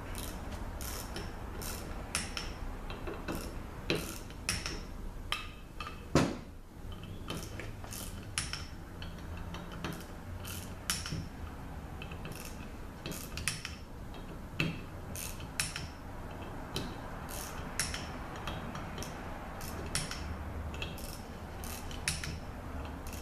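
A ratchet tightening the end covers on a ZF5HP24 transmission valve body, repeated quick clicking bursts with brief pauses over a faint background, close and quiet, no one speaking.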